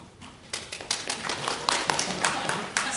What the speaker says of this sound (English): See, you starting them with the clapping